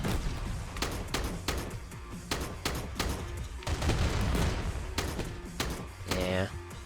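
Cluster launcher firing in the Mech Havoc mech combat game, a rapid run of sharp explosive bursts and booms in uneven volleys over dense rumbling, with someone talking underneath.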